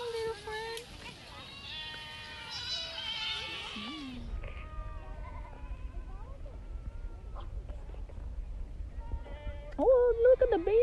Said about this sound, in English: This little goat is looking at us.